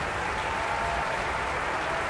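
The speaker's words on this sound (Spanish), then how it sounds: "quisiera que le regalemos merecidamente un aplauso muy grande al maestro Mario Benzicchi" Audience applause at a youth symphony orchestra concert, a dense steady clatter of many hands clapping throughout, fairly loud and unbroken.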